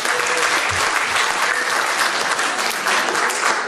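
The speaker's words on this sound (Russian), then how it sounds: "Аплодисменты," Dense audience applause fills the room at a Jewish community gathering in Freiburg, a steady close wash of many hands clapping with no talk over it.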